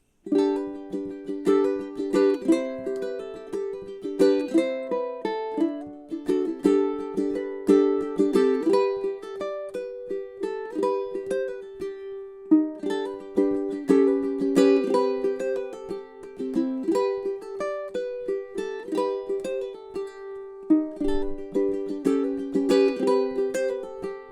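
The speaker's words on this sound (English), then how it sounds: "I'm going to play a little bit for you so you can get a feel for this uke" A ukulele strummed and picked steadily for a long stretch, bright plucked chords ringing close and clear with no voices.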